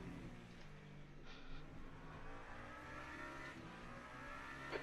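Race car engine in the Le Mans Ultimate sim at Imola during a WEC sprint race, holding a steady loud drone with rising revs and a brief swell as another car draws alongside, with no talk.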